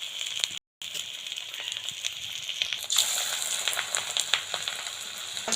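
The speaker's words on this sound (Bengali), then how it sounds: "এবার এই যে তেলে দিয়ে দিলাম। এবার গ্যাসটা একটুখানি কমিয়ে দেবো, যাতে ভালো করে ভাজা হয়।" Cauliflower kofta balls frying in hot oil, a steady close sizzle with crackling pops, briefly cut off near the start and then continuing evenly.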